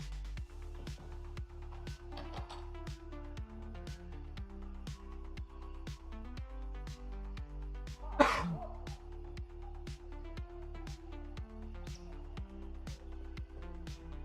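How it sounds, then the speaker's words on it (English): One sharp cough bursts out close to the microphone during PC gameplay of Gray Zone Warfare, standing alone over steady rhythmic game music. "I'm gonna try and mute my mic, therefore you heard me cough"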